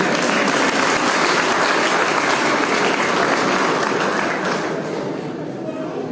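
A crowd at a school result declaration and prize distribution ceremony claps in loud, sustained applause for a student's marks. The dense clapping continues throughout and eases slightly toward the end.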